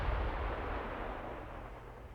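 Battleship main guns firing in the naval strategy game Ultimate Admiral Dreadnoughts, heard as a heavy, continuous low rumble and roar with no distinct individual shots, fading slightly over about two seconds.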